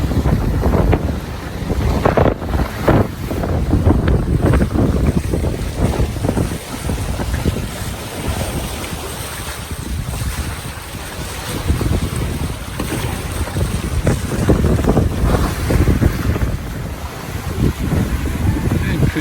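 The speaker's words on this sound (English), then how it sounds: "The wind has finally picked up." Strong, gusting wind roars across the microphone on a sailboat running south from Bequia through the Grenadines, with steady rushing water and surf beneath, loud and continuous, with buffeting bursts throughout.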